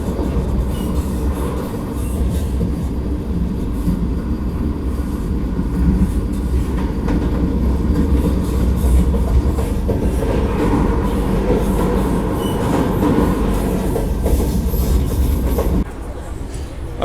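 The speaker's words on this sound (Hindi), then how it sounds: "चलो इस जर्नी का पहला ओवरटेक वंदे भारत एक्सप्रेस से दिखाते" A Vande Bharat Express runs at speed while overtaking another train, heard as a loud, steady rumble with rhythmic wheel clatter and faint squeal throughout.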